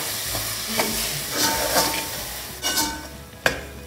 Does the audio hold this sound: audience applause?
no